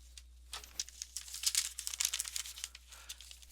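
Brown paper bag being folded over to form a handle for a recycled basket, giving a run of close crinkling and crumpling bursts that swell in the middle and then settle, with no voices.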